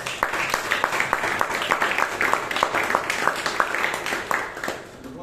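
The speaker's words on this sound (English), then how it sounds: "A big round of applause to Chaitra." An audience at a club meeting applauds its president, a steady run of many hands clapping at moderate volume for several seconds before tapering off near the end.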